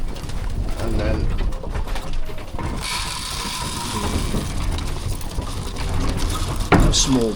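Homing pigeons coo softly amid a busy loft, with rustling, clattering mechanical noises and a sharp rattle near the end.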